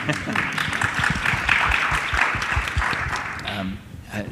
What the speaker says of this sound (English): He deserves an applause, please.